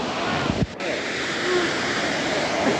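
Gibbon Falls in Yellowstone National Park gives a broad, steady rush of falling water heard from an overlook, mixed with wind buffeting the microphone and a brief dip in the roar.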